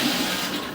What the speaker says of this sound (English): I'm gonna flush some water right now from the toilet